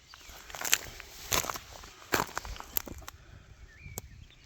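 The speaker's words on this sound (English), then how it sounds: "Crunching is just all these old shells." Footsteps crunching over old dried shells on an exposed dry lake bed, a few sharp crackling steps at uneven intervals, close and fairly quiet outdoors with light rustling between them.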